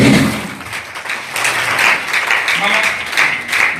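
A church congregation claps and cheers during a revival service, lively applause with raised voices mixed in, loud and close, swelling and staying steady for several seconds.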